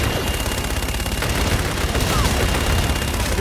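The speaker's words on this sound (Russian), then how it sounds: "Пушки, пушки, пушки." Dense bursts of automatic gunfire rattle without a break in a Call of Duty: Infinite Warfare combat scene. The shots are loud and continuous, with the booming texture of a heavy fusillade.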